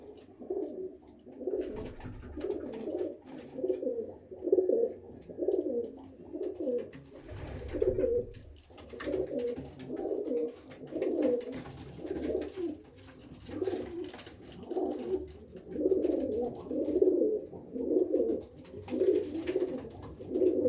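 Pigeons of a home-kept flock coo nearby in steady, repeating rolling phrases, a low throaty call that continues for the whole stretch with little other noise.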